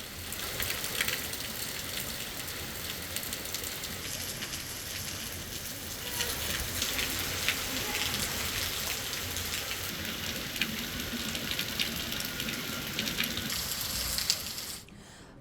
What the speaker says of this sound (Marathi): संभाजीनगर जिल्ह्यामध्ये जोरदार पाऊस झालाय